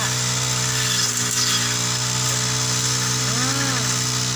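A power grass trimmer cuts grass outdoors with a steady, loud motor whine that holds the whole time, its pitch dipping briefly near the end as it works into the growth.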